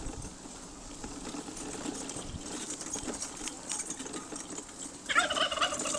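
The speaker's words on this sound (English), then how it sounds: "I found the turkeys, folks." Turkeys in an outdoor pen at the Ulster American Folk Park on a Burns Night evening, faint rustling ambience followed by a short burst of rapid, warbling gobbles near the end, fairly distant and soft.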